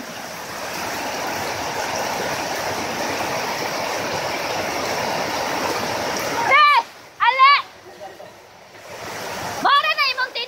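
A steady, loud rush of floodwater in a swollen creek during heavy rain fills most of the clip, broken near the end by excited shouting voices over the torrent.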